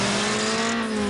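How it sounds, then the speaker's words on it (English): A Mitsubishi Eclipse skidding in Need for Speed Underground: a brief, steady tonal tire squeal over a droning car engine, loud and alone. "That was an unwanted skid right there."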